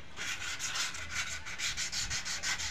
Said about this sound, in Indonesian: seperti ini pinggirannya juga sudah kita amplas, kita bersihkan halus ya.